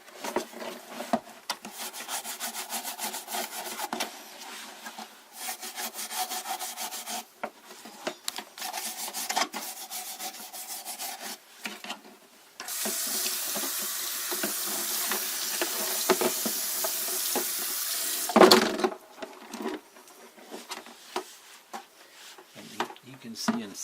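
Scrubbing and rinsing of a hot air humidifier's mineral strainer under a running tap, heard as steady rasping and rubbing strokes over a continuous water rush that swells loud near the end, close up, with someone talking intermittently.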